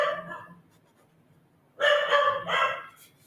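Dog barking at a window indoors, with a faint low vocal at first, then a short pause, followed by two loud, close bursts of rapid barks.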